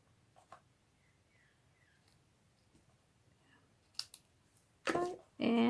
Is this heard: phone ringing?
no